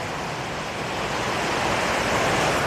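Water pours over creek rocks just above a waterfall, an unbroken close hiss and roar that holds level throughout, with no speech.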